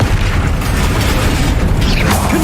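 Spell explosions from the Bombarda curse in Hogwarts Legacy during a final battle, a dense, continuous roar of booming blasts and crackling debris with no pause, loud and close throughout.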